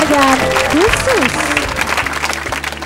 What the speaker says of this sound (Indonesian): Tepuk tangannya untuk Kota Surabaya yang meraih penghargaan khusus.